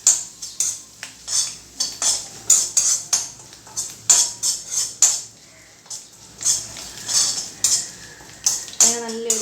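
Grated coconut is roasted in a pan while a metal spoon stirs it, giving quick, rhythmic scraping and clinking strokes against the pan with only faint frying underneath.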